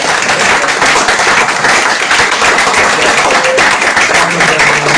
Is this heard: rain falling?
no